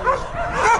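A dog at an animal shelter gives a brief close yip or bark, loud and alone.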